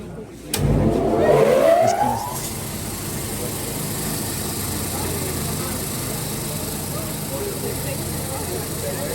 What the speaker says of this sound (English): Mechanical grinder. Please don't put your hand inside.